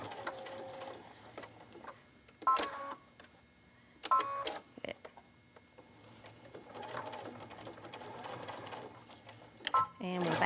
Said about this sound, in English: stitch over it just a bit, back up